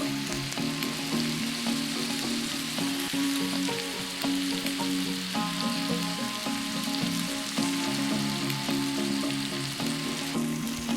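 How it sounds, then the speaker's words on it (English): Marinated, spice-coated steak sears in a hot pan with a steady, dense sizzle that holds for the whole stretch, close and loud, with faint scraping now and then and no voices. "Now what we want to do is sear that steak 3 to 4 minutes each side"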